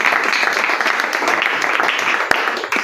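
A church congregation bursts into applause during a French-language Bible teaching: a dense, steady wash of many hands clapping for about three seconds, loud and filling the room.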